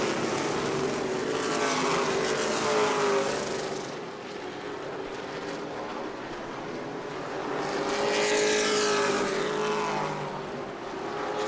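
Race cars lap the New Smyrna racetrack, their engines a steady, loud roar that swells and fades as the pack passes, with no voices over it.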